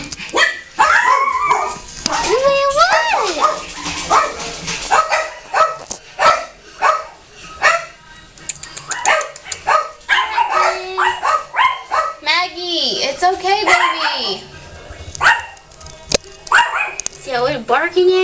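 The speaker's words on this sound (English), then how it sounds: "Barking at you." A dog barks and yips repeatedly in close range indoors, sharp bursts scattered with whimpering tones, while a person talks to it affectionately throughout.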